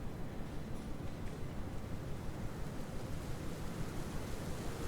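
Steady, soft rainfall plays in the police-management video game This Is The Police as a continuous, even hiss with no breaks or voices.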